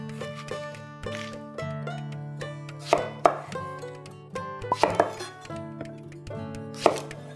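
A knife chops green brinjal into large chunks on a board for a labra curry, producing a run of crisp, irregular close chops over soft tonal background music.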